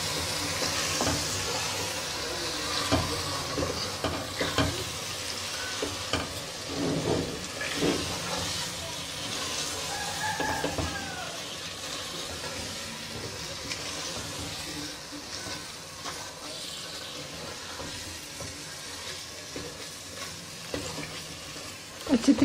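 Chopped mustard greens for sarson ka saag fry and crackle in a pan, a steady close sizzle with repeated scraping and stirring knocks throughout.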